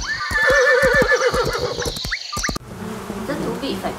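A horse gives a loud, close whinny with quavering, descending pitch, followed by a short stretch of softer, noisy rustling.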